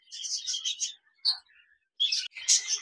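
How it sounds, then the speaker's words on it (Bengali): A pair of lutino double-factor Japanese budgerigars chirps in quick, high, close twittering bursts separated by brief silences. "এখানে দেখতে পাচ্ছেন একজোড়া জাপানিজ বাজরিগার রয়েছে, লুটিনো ডিএফ"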